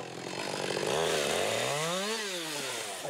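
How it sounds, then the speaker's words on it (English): A chainsaw roars up close cutting logs held in a sawbuck, its engine pitch dipping and rising as the chain bites into wood, loud and continuous. "Then I would just come in with my chainsaw and cut upwards for the last one."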